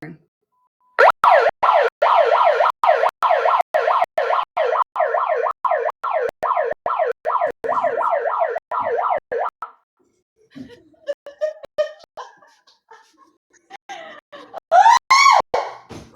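A loud wailing siren with a rapid, repeating yelp pattern sounds for several seconds, then cuts out, followed by scattered clicks and a brief rising tone.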